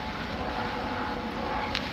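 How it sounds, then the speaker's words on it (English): A police helicopter flies overhead outdoors in the city, a steady, muffled rotor drone that stays constant throughout with some wind rumble over it. "helicopter over here, police helicopter."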